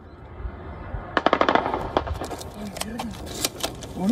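Rapid bursts of gunfire crack in quick succession outside Culiacan Airport, followed by scattered single shots, with passengers murmuring and shouting inside a commercial aircraft.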